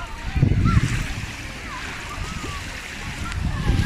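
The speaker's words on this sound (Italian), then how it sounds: "Il mare è bellissimo, ragazzi." Sea waves wash onto a beach in a steady, rolling surf with splashy bursts, close and fairly loud, while someone talks over the water.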